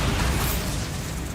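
Bombarda spell explosion in Hogwarts Legacy, a dense, roaring burst of noise with a heavy low rumble that stays loud throughout and eases slightly at the end.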